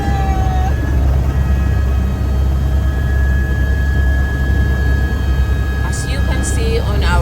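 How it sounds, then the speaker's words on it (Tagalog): Helicopter on a scenic flight over the Gold Coast, a steady loud engine and rotor drone with a constant whine running throughout, voices talking over it. "Tara, samahan niyo kami sa aming helicopter scenic flight."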